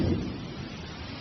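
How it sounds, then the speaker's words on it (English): Thunder during a storm, a deep low rumble swelling at the start and rolling on steadily for a moment, alone with no voices. "Thunderstorms may be brief here, but they often presage long rainy spells."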